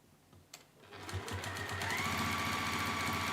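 A sewing machine top stitches along the edge of a fabric corner cover bookmark, starting with a few slow clicks, then settling into a fast, steady mechanical whirring rhythm, close and moderately loud.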